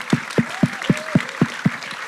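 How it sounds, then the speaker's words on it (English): Applause from the audience at the JunctionX Budapest 2019 hackathon awards ceremony fills a brief stretch, with a steady beat of low, evenly spaced thumps pulsing beneath the clapping. "can we have a big round of applause for JunctionX and Tech Embassy"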